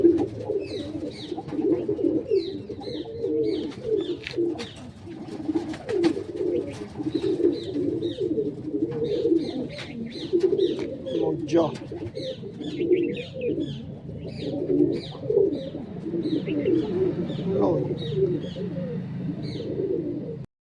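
A flock of pigeons coos continuously, with overlapping throaty warbles and occasional chirps, close and busy throughout.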